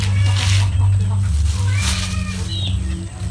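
Cats meowing during a seaside meal of kinilaw made from raw anchovies, with several short rising cries set against a steady low hum and people talking nearby.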